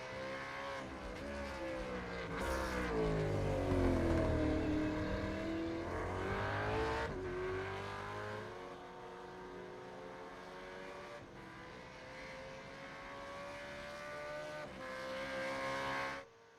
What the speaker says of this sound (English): You can hear the purr of John Gallen's Commodore